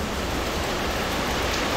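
Water drips and pours steadily from a leaking ceiling at an indoor water park, making a dense, constant patter like rain that fills the whole short stretch with no pauses.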